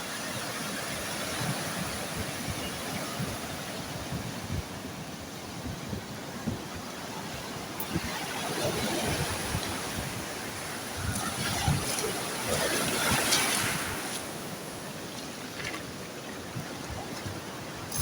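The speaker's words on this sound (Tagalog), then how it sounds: "masyadong malakas yung alon mga kabangka" Strong sea waves crash and roar during a typhoon, a continuous heavy wash of surf with gusting wind buffeting the microphone and swells surging louder midway.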